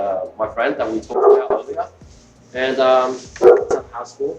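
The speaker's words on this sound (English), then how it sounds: "That's my dog upstairs." An excited dog barks upstairs in a house, its yips and barks partly muffled and mixed under close conversation between people.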